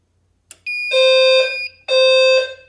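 A fire alarm system sounds during a test, giving two loud, harsh electronic blasts, each about a second long with a short gap between them. A soft click comes just before the blasts, close by in a quiet room.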